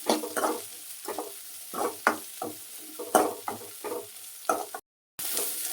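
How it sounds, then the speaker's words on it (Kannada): Chopped kanchekai citron frying in oil in a pan for a Malenadu-style sambar, a soft sizzle under repeated spatula strokes scraping the pan in an irregular rhythm, with a short silent gap near the end. "ಈಗ ಕಂಚೆಕಾಯಿ ಹೆಚ್ಚಿರೋದನ್ನು ಹಾಕ್ಕೊಳ್ತೀನಿ. ಇದನ್ನು ಚೆನ್ನಾಗಿ ಎಣ್ಣೆಯಲ್ಲಿ ಹುರಿಬೇಕು."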